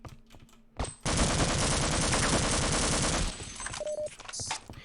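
Sustained burst of rapid automatic gunfire in a video game, loud and dense for about two seconds, preceded and followed by quieter single shots and game noise.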